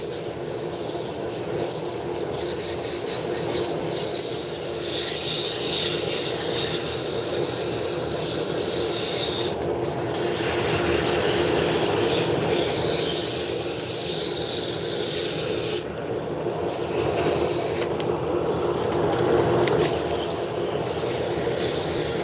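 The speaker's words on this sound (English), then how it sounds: "turn the speed down and start sanding." Steady abrasive rubbing of sandpaper against a spinning wooden drop spindle on a lathe turned down to low speed, a continuous close hiss and whir with a few brief brighter bursts of friction.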